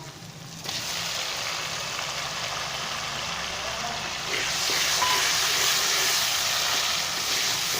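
Chopped tomatoes hitting hot oil with fried garlic in a pan for apple gourd curry, giving a steady broadband sizzle that starts abruptly and grows louder partway through, close and unbroken.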